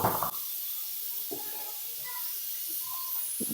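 Continuous steam hiss from a pressure cooker in a home kitchen, with a brief louder burst at the start and faint scattered background sounds and muffled voices underneath.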